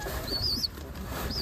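Rajshahi Giribaj pigeons flap their wings at a pigeon farm in a brief, soft flutter, set against a faint steady hiss and thin high chirps.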